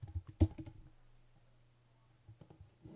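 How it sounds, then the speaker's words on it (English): A computer keyboard is used to enter a username and password while setting up a wireless access point. A short cluster of keystrokes sounds near the start, followed by quiet with a faint hum, then a few more taps at the end. "And type in the username and password,"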